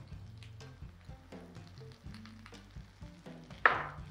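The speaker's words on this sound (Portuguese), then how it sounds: "Vou colocar os cogumelos a saltear." Mushrooms sautéing in olive oil with thyme and salt give a steady, soft sizzle under background music, with one sharper spitting hiss flaring near the end.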